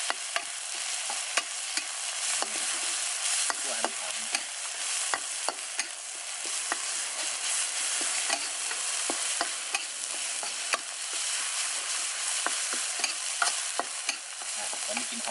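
Basil chicken and seasoning stir-fried in a wok with a steady, loud sizzle and frequent scraping, clattering stirs of the spatula throughout, no voices.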